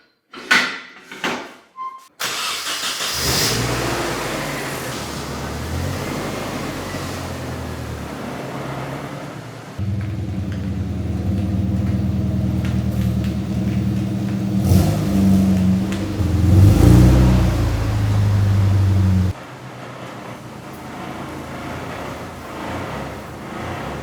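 A Nissan 240SX S13 is started and backed out: a few door and handling knocks first, then a steady idling engine with a deeper, louder stretch of revving and rumble as it reverses, before settling back to idle. No talk.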